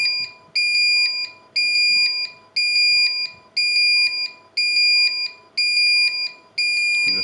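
A Honeywell Galaxy Flex alarm system in alarm sounds a loud, piercing electronic siren in regular pulses, about eight bursts of high tones with brief gaps between them, with no voices.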